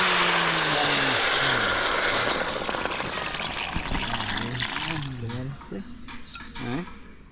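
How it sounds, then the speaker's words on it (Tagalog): Water pours steadily into a cooking pan with a continuous splashing rush for about five seconds, then trails off, while a person talks over it throughout. "Lagyan ng tubig. Lagyan ng tubig."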